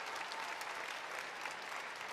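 Arena crowd applauding after a pairs free skating performance at a figure skating Grand Prix event, a dense continuous wash of clapping, fairly faint and distant, steady for a couple of seconds.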